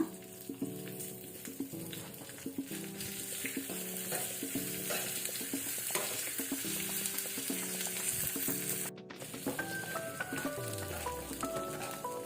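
Green chilli, ginger and urad dal tempering in hot oil, a continuous close sizzle with light crackles and stirring scrapes, faint background tones throughout.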